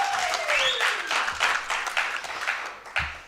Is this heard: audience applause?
yes